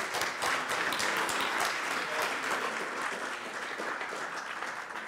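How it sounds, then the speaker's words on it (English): Audience applause for a speaker at an open-source radio conference, a dense, steady wash of many hands clapping that fills the room at constant loudness throughout, with no talk over it. "give loads of applause to Michelle"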